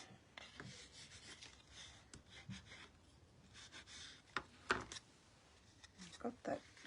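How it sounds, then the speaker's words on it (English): An edge being burnished by hand, close, quiet rubbing strokes in short irregular bursts with a few sharper scrapes, under soft talk. "Okay, just burnish that"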